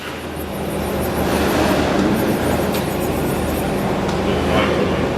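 Okuma Captain L470M CNC lathe from 2008 with live milling and a 15-inch chuck, running its C-axis: a steady low mechanical drone and hum with broadband machine noise, continuous and fairly loud throughout.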